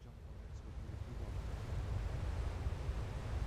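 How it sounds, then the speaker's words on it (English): Ocean waves surge and wash against a cargo ship at sea in a ship simulator game, a steady broadband roar that builds slightly over a few seconds with low rumbling swell underneath. "Look at this wave coming in."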